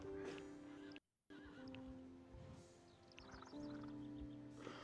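Horse in a video game neighing, a loud whinny near the start and another shaky whinny toward the end, with faint hoof clopping in between.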